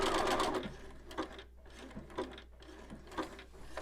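A sewing machine runs a zigzag stitch along a fall-leaves table runner, making a quiet, uneven mechanical clatter of short bursts and pauses. It is faint and close, with no talking.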